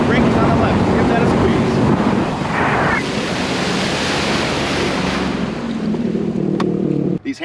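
A 2021 Sea-Doo Spark Trixx personal watercraft riding across open water, loud continuous wind and spray roar that fades out at the very end, with a voice speaking faintly underneath.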